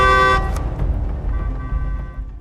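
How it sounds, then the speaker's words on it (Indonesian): A car horn sounds in one loud, sustained blast that breaks off after about half a second, and engine and road rumble carry on underneath once it stops. "Sang Yu kemudian mencoba untuk memastikan dan membunyikan klakson mobilnya"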